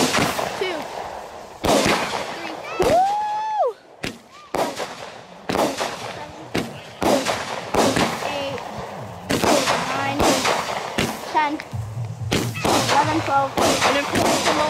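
Fourth of July fireworks being lit and set off, including a Killer Alligator firework, with repeated loud sharp bangs and crackling bursts, a rising whistle near the start, and people shouting and talking nearby.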